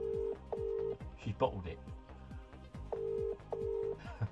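Telephone on speaker ringing in repeated double-burst tones, steady and clear, with a person talking briefly between the rings.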